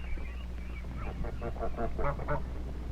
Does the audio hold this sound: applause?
no